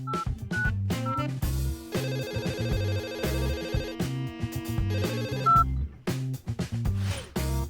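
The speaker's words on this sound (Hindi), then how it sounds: "अब फोन कॉल से इसे ढूंढना आसान होगा।" An old phone rubber-banded to a game controller rings with an incoming call: a loud, close electronic ringtone melody that repeats in bursts for several seconds, with no voices.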